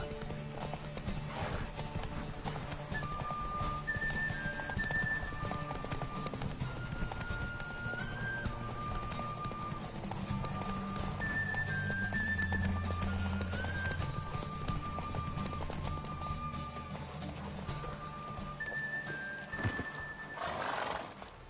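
Horse hooves clip-clop steadily through a race in The Witcher 3, with occasional neighs and whinnies over a continuous bed of game music and ambience, loud and close throughout.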